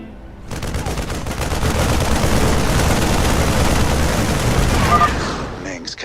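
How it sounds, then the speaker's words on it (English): Sustained automatic gunfire rattles loud and continuous through a StarCraft II game cutscene, dense bursts layered together for several seconds before fading out. "They're shooting civilians!"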